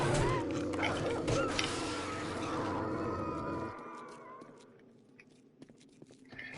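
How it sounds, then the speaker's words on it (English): A zombie dog in the survival game 7 Days to Die attacks, barking and snarling loudly over dense game noise and clatter before the sound drops to quieter scattered thuds. "That's not a zombie, that's a dog."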